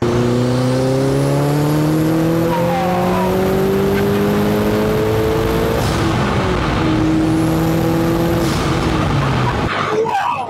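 Steady loud engine drone from inside a car, pitch rising through the revs, then a shift and rising again, with road noise underneath.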